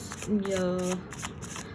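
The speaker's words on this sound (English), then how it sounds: "let's shuffle for you guys" Tarot cards being shuffled by hand, a brief soft riffling rustle heard close up while a person speaks over it.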